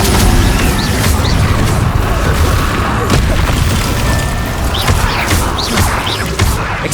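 Incendio fire spell cast in Hogwarts Legacy, amid a fast-paced magical duel with other spells: loud, dense booms and crashing blasts fire one after another over a constant roar, with no gap between them.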